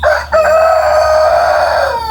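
A rooster crows loudly and close by in one long drawn-out call, with a brief cluck just before it.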